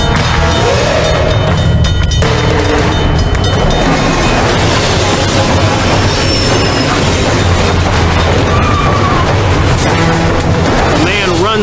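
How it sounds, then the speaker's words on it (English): An eastbound passenger train approaches a downtown crossing with the gates down, a loud, continuous rumble and rush of wheels filling the whole span with steady roar and metallic tones. "the sound of the oncoming train can be heard"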